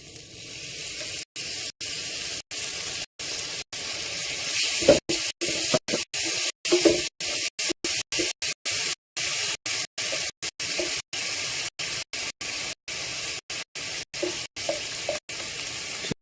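Tomato and basil hitting hot oil in a curry pan, a steady loud sizzle and hiss running throughout, broken by stirring scrapes and brief clatters, with no talking.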